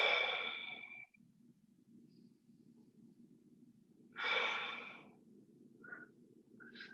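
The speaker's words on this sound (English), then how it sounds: "Nice deep breaths." Slow, deep yoga breaths drawn in twice, each a soft, airy rush close to the listener, separated by a long quiet stretch over a low steady hum, with a couple of faint short puffs near the end.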